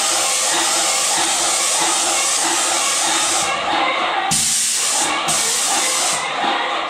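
An airless spray machine blasts plaster onto a wall in a loud, continuous close-up hiss that carries through the whole stretch, with brief shifts in tone as the spray pauses and resumes.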